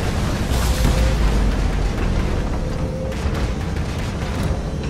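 Grenade blasts in the Halo 2 video game rumble as a dense, continuous low boom with overlapping bursts and a faint tonal whine, heard alone without talk.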